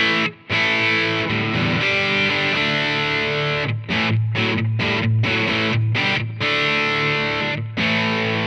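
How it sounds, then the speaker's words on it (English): Distorted electric guitar through a Line 6 DT25 112 tube combo on a Plexi amp model with EL34 power amp in class AB, crunchy classic-rock tone, playing sustained chords and riffs with brief pauses between phrases, loud and close. "I'm starting off where I left off on the Plexi sound"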